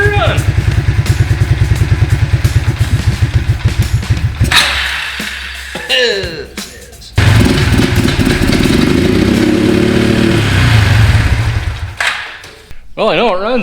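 A free old four-wheeler ATV with a likely faulty carburetor cranks into a rapid, loud pulsing idle, cuts out, then restarts and runs rough with clattering, while someone talks over it.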